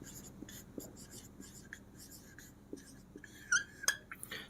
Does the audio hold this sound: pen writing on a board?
yes